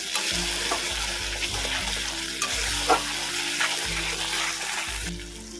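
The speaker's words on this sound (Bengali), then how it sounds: "এবার ভালো করে পুরো মশলাটাই কষিয়ে নেব" Spice paste for doi paneer frying and being stirred in a pan, with a constant loud sizzling hiss and occasional scraping bursts over a low, steady hum, close by with no one speaking.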